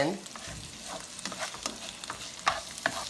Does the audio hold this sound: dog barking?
no